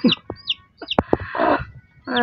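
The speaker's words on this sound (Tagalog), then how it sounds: "Oo, andiyan ang mga sisiw." Newly hatched chicks and a hen: high, rapid peeping from the chicks mixed with the hen's low clucks and a few sharp pecking knocks, all close and loud.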